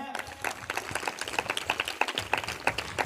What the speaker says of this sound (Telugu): చప్పట్ల కొట్టవే.